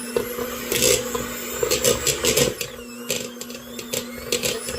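An electric mixer creams slightly hard butter for a boxed chocolate cake mix, making a rattling, whirring buzz that surges in uneven bursts, close by.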